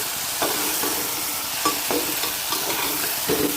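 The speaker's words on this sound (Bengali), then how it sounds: "আবারও ভালো করে মিশিয়ে নিলাম।" A pan of dal chicken being stirred and mixed while it fries, with repeated scraping strokes of the spoon over a steady close sizzle.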